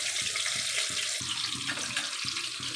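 Chopped onions hiss and sizzle in hot oil in a pan, a steady close frying crackle with faint rhythmic stirring bumps and no talking.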